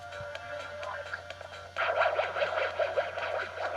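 Moonrock targets in the Windows audio game Troopanum 2 give off a dense, buzzing, warbling electronic texture that swells sharply partway through and holds steady with rapid pulsing flutters, with no talking over it.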